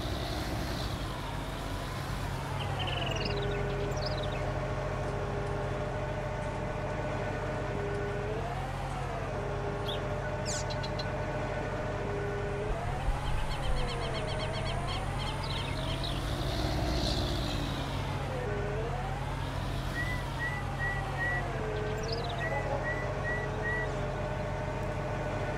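Tractor engine in Farming Simulator 19, a steady close droning rumble that rises and falls in pitch as the engine revs and eases off, running throughout with no pause.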